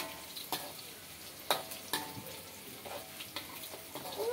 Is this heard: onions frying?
yes